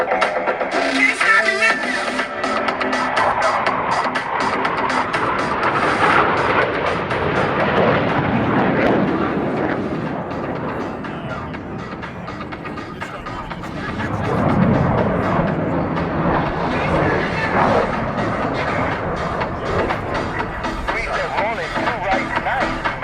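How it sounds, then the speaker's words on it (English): Blue Angels F-18 jets fly an opposing inverted roll at an airshow at NAF El Centro, a loud, sustained roaring jet rumble that swells and fades as they pass, with an announcer talking over it. "Approaching inverted from the left and right, they will roll their aircraft 360 degrees, crossing over center point."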